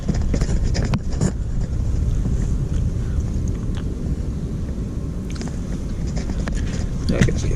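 Steady wind blowing outdoors, a broad rushing roar buffeting the microphone throughout with a few louder gusts and light handling knocks.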